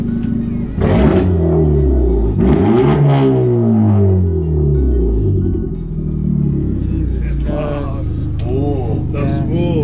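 Honda Civic Type R making about 400 hp, fitted with an Ultimate Racing exhaust, revs several times in loud, rising and falling blasts with a deep rumbling idle between them, close by, with voices faintly underneath.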